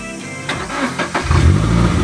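A car engine cranks and catches, then settles into a loud, steady idle close by, in a quiet countryside setting.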